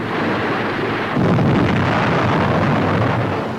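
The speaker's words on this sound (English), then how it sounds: "German guns open up immediately. Shells fall on tanks and men in the road" German artillery shells exploding in 1944 wartime newsreel footage, heard as a dense, continuous roar of rumbling blasts that swells louder after the first second, with no distinct separate bangs.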